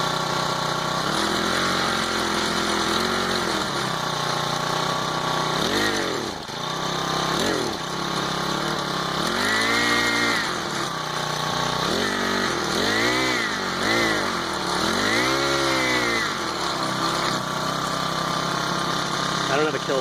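A Honda GX25 small engine on a motorized bicycle runs close and loud with a slightly uneven carburetor setting, holding a steady buzz that repeatedly surges and dips in pitch.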